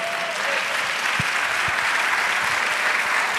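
A congregation claps during a church sermon, a steady, full wash of applause with a few louder individual claps standing out near the start.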